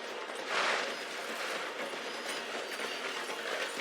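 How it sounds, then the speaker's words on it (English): Train in Red Dead Redemption 2 slowing as it passes through a station, steady rolling rumble with clickety-clack of wheels and a brief squealing swell near the start, close and continuous, no voices. "The train is slowing down to go through the station."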